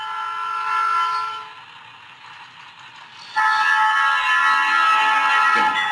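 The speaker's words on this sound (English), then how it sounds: "Oh, and there's the train going by." A train passes a level crossing some distance away, heard from inside a car: a steady rumble with a tonal horn-like sound that drops off, then swells back louder and sustained near the end.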